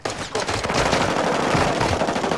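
Sustained automatic gunfire from enemy soldiers in a Resurgence-mode battle game, loud and dense with rapid overlapping bursts running continuously from start to end.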